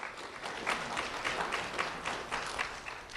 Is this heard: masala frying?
no